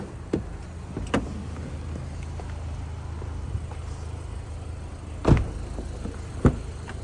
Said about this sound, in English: Now while we've got the car running, we'll hop out and pop the hood as well for you.